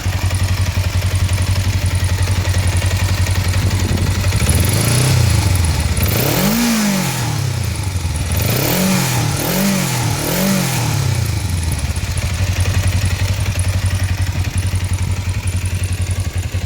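A motorcycle engine with a knocking, rattling fault idles loudly, then revs in several short bursts mid-clip before settling back to a steady, clattering idle.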